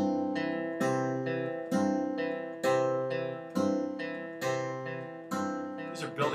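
Travis picking on an acoustic guitar, a steady alternating-bass fingerpicked pattern with the second string struck on beats one and three, evenly repeating ringing strums at a moderate tempo, close and clear.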